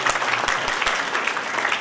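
Applause from a conference audience at an international college conference, a dense steady clatter of many hands filling the whole short stretch at moderate loudness with no voices.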